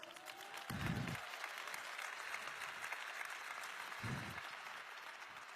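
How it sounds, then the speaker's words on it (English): A conference crowd at the INBOUND 2016 keynote claps steadily for friends in the audience, the applause moderately distant and fairly quiet, with a couple of brief low shouts or whoops rising above it. "Can we clap it up for my homies?"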